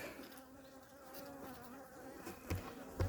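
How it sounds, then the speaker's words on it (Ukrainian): Dense, steady buzzing of many aggressive honey bees close by at a hive, with a low droning hum and a couple of soft thumps near the end. "Бджоли атакують ще. Бджоли агресивні."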